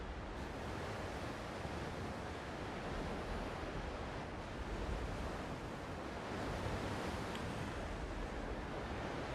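A sailing ship under full sail in a pirate-era archipelago video game, with a steady, continuous wash of ocean waves and wind rushing evenly throughout, no voices.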